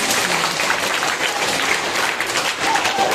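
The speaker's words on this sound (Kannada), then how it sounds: "ಅಲ್ಲೇ ಒಮ್ಮೆ ಜೋರದ ಚಪ್ಪಾಳೆ ಕೊಡಿ ನೋಡ" Loud, continuous applause from a crowd of schoolchildren at a school activity, dense clapping sustained evenly throughout with no clear break.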